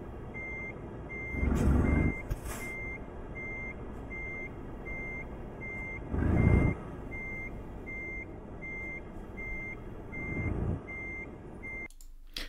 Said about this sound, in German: Ihr hört das jetzt, das ist das reine Fahren, da ist also noch kein Ton dahinter, also der Ton vom Fahren